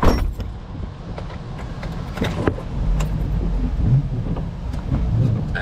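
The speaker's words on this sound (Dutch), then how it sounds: "Ik ga wel achteruit rijden, dat hier ook nog een auto kan staan." A car reverses at a petrol station during a thunderstorm: a low, steady engine rumble close by, broken by a few sharp clunks and rattles, with no talking.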